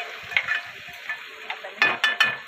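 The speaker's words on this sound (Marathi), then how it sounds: "आता बघा मी लसूण टाकणार. आता लसूण हलवूया." Garlic sizzles in a hot pan while being stirred, with a few soft scraping strokes and light clinks over a steady frying hiss, close by and without talk.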